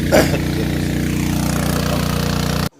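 A small 5 HP diesel irrigation pump engine runs steadily nearby with a rapid, even chugging pulse, then cuts off abruptly at the end.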